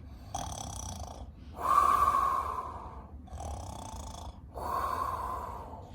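A voice imitates loud snoring: four long, rasping snore breaths in a slow, steady rhythm, close up, with no other talk.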